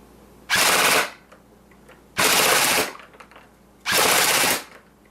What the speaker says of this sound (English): give a couple of full auto bursts so you guys can see what this could do